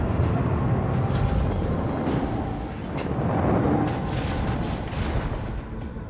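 Torpedo salvo explosions in Warhammer 40,000: Rogue Trader rumble as a continuous, heavy low-end barrage, with dull booms rolling and overlapping for several seconds without pause.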